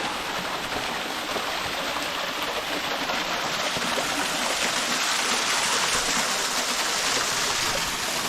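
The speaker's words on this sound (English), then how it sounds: "Third waterfall accomplished." A waterfall in a canyon pours with a steady, loud hiss and rush of falling water, constant and close, with no voices over it.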